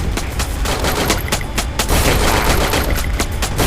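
Loud, dense gunfire from the mobile shooter game Free Fire fills the whole stretch, with rapid overlapping bursts and sharp shots that crackle continuously without a pause.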